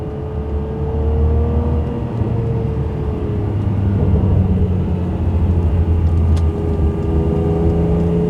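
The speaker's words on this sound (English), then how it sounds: "There's a nice throaty roar to this car, almost a bark" A Ferrari 612 Scaglietti V12 engine drones and rumbles while driving at about 4,000 rpm, its pitch rising and falling slightly with a steady throaty roar up close.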